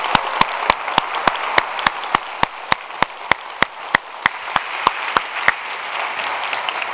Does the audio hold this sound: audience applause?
yes